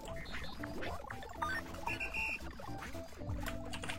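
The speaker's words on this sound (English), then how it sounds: "Water to pot." Water poured into a clay pot at a primitive outdoor work site, a steady close splashing pour running continuously under other faint handling noises, with no talk.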